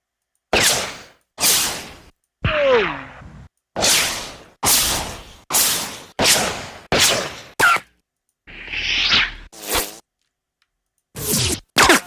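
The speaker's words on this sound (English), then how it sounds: "So let's add a bullet by." A series of sharp bullet whiz-by sound effects for audio post-production, each a loud, abrupt whoosh separated by silence, about a dozen in all with a few brief pitch-sweeping swishes among them.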